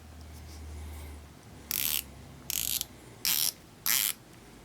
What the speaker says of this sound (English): show you the bezel action